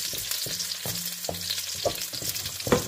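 Garlic fries in a pan for pancit bihon, a steady close hiss and crackle punctuated by several soft scraping and tapping stirs.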